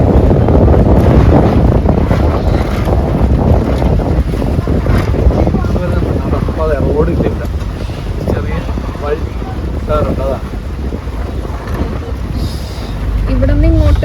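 A boat motors along the Alappuzha backwaters in Kerala with a steady engine and water rumble mixed with wind buffeting. Faint voices are heard partway through.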